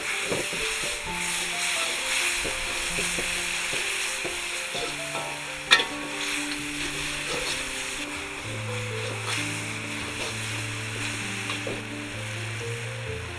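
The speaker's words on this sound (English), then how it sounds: "Stir in the sauce that you mixed up earlier." Sauce stir-fried in a hot wok for pad see ew, sizzling and hissing steadily throughout, with stirring clatter and one sharp clank from a utensil partway through; a low tonal hum runs underneath.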